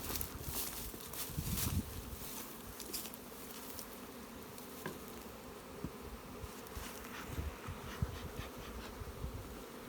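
Honey bees buzz steadily around beehives in early spring, a dense continuous hum close by, with occasional individual bees zipping past and faint rustling underneath.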